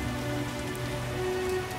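Steady rain falls in The Witcher video game, a continuous hiss of drops on surfaces with a low ambient rumble beneath, even and moderately loud with no talk.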